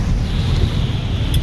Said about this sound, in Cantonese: 哦，橫風橫雨